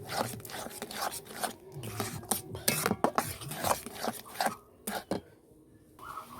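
A spoon stirs and scrapes a sandesh mixture of Gobindobhog rice, sugar and ghee in a cooking pan, giving quiet, close, irregular clinks and scrapes with soft bubbling between strokes.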